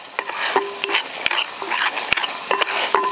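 Onions frying in hot oil until golden sizzle loudly and close up, while a metal spatula strikes and scrapes the pan in sharp, irregular clacks; no talking.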